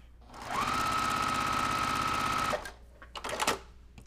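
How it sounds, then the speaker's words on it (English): Sewing machine stitching along a drawn line on a quilt block, a steady two-second whirring run with a sustained tone, then stopping, followed by a few clicks and rustling of fabric handling. "I'm gonna sew on that drawn line"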